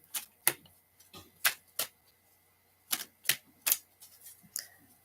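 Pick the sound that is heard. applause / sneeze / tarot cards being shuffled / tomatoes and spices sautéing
tarot cards being shuffled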